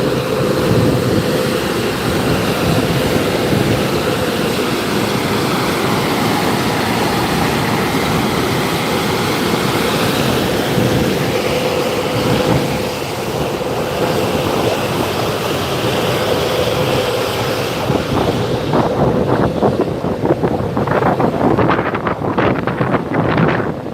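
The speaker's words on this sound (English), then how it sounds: "it's a bit windy today" Wind buffets the microphone in a loud, continuous roar that rises and falls slightly, with a broad rushing texture throughout.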